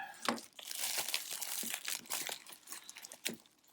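Paper wrapping around a watch strap crinkled and crumpled by hand, with a few sharp tearing bursts, close and fairly quiet, no talk.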